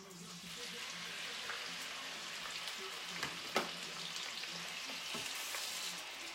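Shrimp frying in a pan for shrimp scampi, giving a steady, dense sizzle throughout with a few stirring knocks and a sharp clink partway through.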